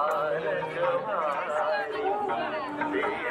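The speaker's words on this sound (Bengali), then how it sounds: "আমরা ভিড় ঠেলে আস্তে আস্তে এগোচ্ছি" Dense crowd chatter at the Tribeni Kumbh bathing ghat, a steady wash of many overlapping voices close around, continuous and fairly loud throughout.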